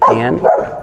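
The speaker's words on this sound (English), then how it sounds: "Even dogs barking." A dog barks outdoors, one short close yelping bark with a second rising yip right after, loud and brief, with a single spoken word at the start.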